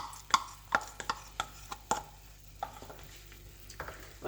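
Cornflour paste being stirred into honey chilli sauce in a pan, with a series of sharp spoon scrapes and taps against the vessel, fairly quiet and close, with no talk.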